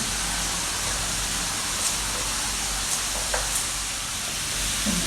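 Onions fry in hot oil in a home kitchen, giving a steady, close sizzling hiss with a few small pops and no talking.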